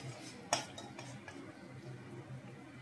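A spoon stirs koi fish curry in a metal pot, giving soft scraping with one clear metallic clink near the start, faint against quiet kitchen background.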